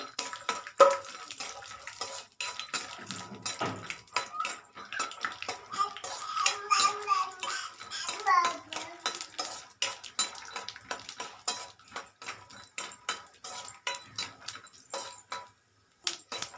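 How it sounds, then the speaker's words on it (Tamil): Peanuts roast in oil in a metal pan while being stirred, producing repeated close scraping and clattering of a utensil against the pan in irregular bursts with brief pauses. "இதில் வந்துட்டு வேர்க்கடலை சிம்லேயே வச்சு வணக்கிப்போங்க"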